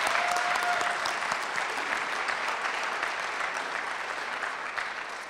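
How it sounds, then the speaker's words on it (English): Sustained applause from a conference audience for panelists at a Future of Technology 2014 event held at a vineyard venue: dense, steady clapping at an even level throughout, with no talking over it. "a round of applause for the panelists"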